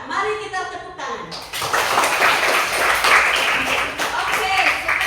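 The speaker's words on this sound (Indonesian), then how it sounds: "Mari kita tepuk tangan." Classroom of children clapping hands together, a dense steady patter of many small hands that starts abruptly and carries on loud and close, with a few young voices mixed in.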